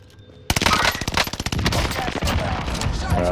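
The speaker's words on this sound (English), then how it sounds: "See those shots down at the bay." Video game gunfire erupting after a short lull: a rapid burst of close automatic shots followed by sustained loud firing and fusillade noise.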